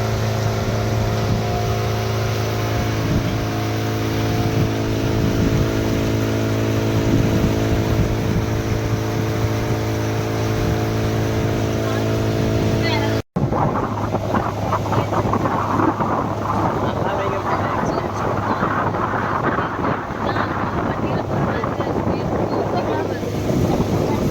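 A boat ride on water at Tiruppur, with a steady engine drone and wind buffeting the microphone, then a rougher, rushing wash of water and wind after a brief cut.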